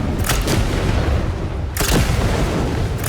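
A weapon fires at Composite MK.2 armor in a video game, giving loud, continuous booming blasts with two heavier impacts rising out of a dense rumble.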